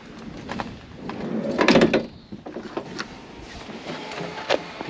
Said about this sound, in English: Open the door, Finn.